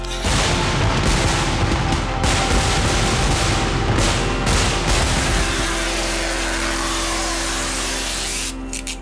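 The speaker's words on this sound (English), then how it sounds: "Because of fireworks, their glass has broken." Dense, continuous rumbling bursts of fireworks at a festival in Kerala, loud and booming with overlapping blasts strong enough to break glass, easing into a steadier roar near the end.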